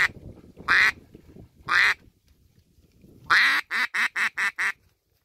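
A hand-blown duck call imitates a duck's quacks: two separate loud quacks, then a longer call followed by a fast run of five short quacks, close and clear over faint background noise.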